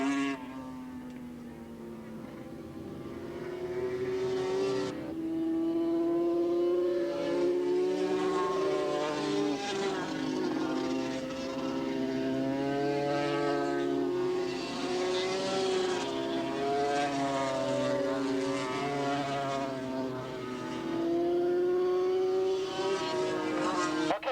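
Yamaha RZ racing motorcycles in the 1985 AFM Formula 2 class race at Willow Springs International Raceway wail past, their engine notes rising and falling continuously, loud and fairly close, with an announcer talking over them.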